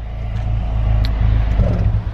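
Throaty exhaust note of a Ford ST engine rising and falling in a short rev, close and loud with a deep rumbling base.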